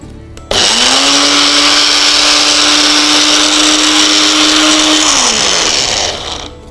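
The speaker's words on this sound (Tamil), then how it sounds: "இந்த சிறுகீரையை அரைச்சி நம்ம சாறு எடுத்துக்கிட்டோம்" A kitchen mixer grinder runs steadily, blending siru keerai greens into juice; a loud, continuous whirring motor spins up abruptly, holds an even pitch for several seconds, then winds down with a falling tone at the end.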